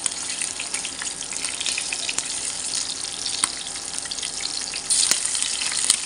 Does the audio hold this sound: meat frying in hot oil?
yes